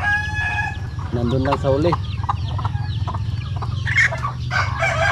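Chickens cluck repeatedly and a rooster crows on a rural Filipino farm, the calls close and overlapping above a low steady hum, with someone speaking briefly among them.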